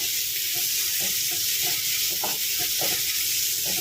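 Mushroom pepper fry sizzles steadily in a pan while a utensil stirs it, giving repeated soft scraping strokes over the continuous close frying hiss.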